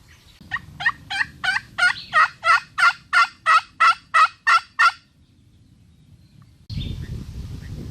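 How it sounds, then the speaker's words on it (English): A wild turkey gobbler gobbles in a long, rapid run of about a dozen loud, evenly spaced rattling notes, fairly close on a spring hunting morning, then falls quiet before a burst of wind or handling noise. "So we just heard another gobble."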